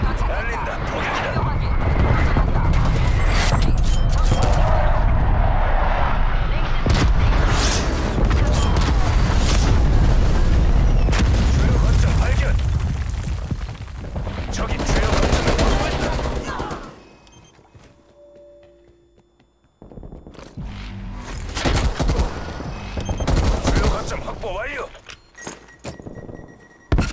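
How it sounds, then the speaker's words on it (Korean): Artillery bombardment and gunfire in the video game Call of Duty: Black Ops Cold War on Xbox Series S, a loud sustained roar of blasts and shots that drops out, then resumes with sharper scattered impacts; in-game voice lines are heard. "적 포격 임박."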